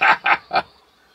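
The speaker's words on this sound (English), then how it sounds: "Got a couple of ducks on the lake" Three loud, close duck quacks in quick succession from ducks on a lake, then quiet.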